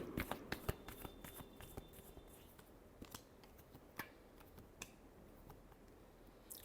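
Deck of cards being shuffled quietly during a tarot reading, a string of soft crisp riffles and light taps, faint and close, with no talking.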